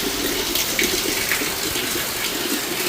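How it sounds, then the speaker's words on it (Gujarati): Steady, dense rain hisses continuously nearby in a village during a thunderstorm, with water splashing and dripping throughout and no voices. "અહીંયા વળી વરસાદ ચાલુ થયો છે"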